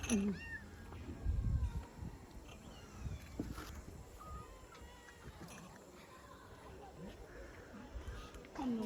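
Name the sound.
cats meowing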